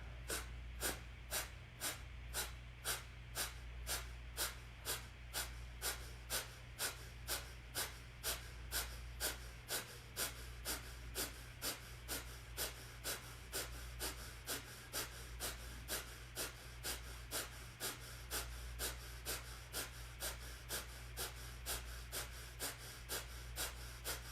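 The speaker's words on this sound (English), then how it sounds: "Begin strong exhales, pumping of the navel." Strong rhythmic yoga breathing with forceful exhales pumped from the navel, a fast, even series of sharp breath bursts repeating about twice per second, close and steady throughout, over a low background hum.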